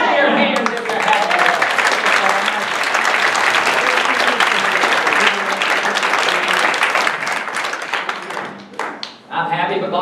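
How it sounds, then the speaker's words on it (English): A church congregation claps hands together in a dense, continuous burst that carries on loudly for several seconds, then tapers off briefly before resuming near the end. "Clap your hands if you're happy."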